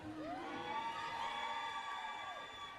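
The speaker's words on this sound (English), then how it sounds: "Cheer like we're not going through the apocalypse" Roller derby fans cheering and whooping in an arena, a sustained crowd roar with high shouts rising and fading over a few seconds.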